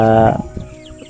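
Farm chickens clucking close by, a short burst of loud layered fowl calls that quickly fades into quieter scattered clucks.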